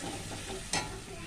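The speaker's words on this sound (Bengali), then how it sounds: "এবারে ভালো করে এটাকে মশলাটাকে কষাবো।" Spice paste for a Bengali fish curry (macher jhol) is sautéed in a pan, a low steady sizzle with one brief sharp scrape of a spoon, close by and without talk.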